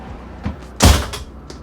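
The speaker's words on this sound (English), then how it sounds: "Shut this door." The entry door of a 2018 Winnebago Sunstar 27PE RV being pulled shut: a single solid thump with a brief latch click, preceded by faint handling knocks, close by and alone.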